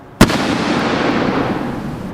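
A single loud firework explosion bursts close by with a sharp crack, then fades into a long rumbling, crackling decay over the next two seconds.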